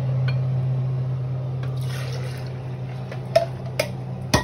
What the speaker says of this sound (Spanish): Voy a poner la leche.